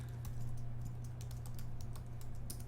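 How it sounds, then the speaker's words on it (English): Rapid clicking keystrokes on a computer keyboard as an email address is entered on a webmail login page, a steady quiet patter of close-up taps over a low background hum. "Here we can type in our email address"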